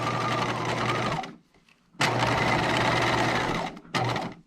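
A sewing machine understitching a skirt pocket runs in close, rapid buzzing bursts, stopping briefly twice between runs of stitching; no talk.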